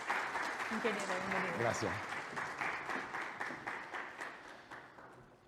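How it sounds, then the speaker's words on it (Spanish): Steady audience applause welcomes a panel at a technical conference, clapping continuing under brief spoken greetings and gradually fading. "recibamos por favor este panel con un fuerte aplauso."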